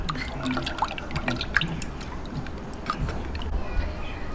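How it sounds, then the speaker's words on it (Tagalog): A thick ube milk pudding mixture is stirred over low heat in a pan as it thickens, giving soft wet clicks and drips close by, steady and continuous. "Haluin po ulit natin hanggang sa lumapot."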